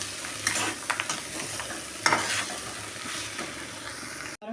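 Green gram simmering in a pan as a spoon stirs it, soft sizzling with several sharp scraping strokes against the metal, ending abruptly.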